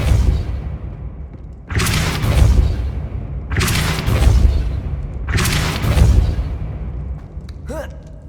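Depulso spell casts in the Hogwarts Legacy video game, three evenly spaced heavy whooshing blasts with deep booming low ends, each swelling and then fading before the next.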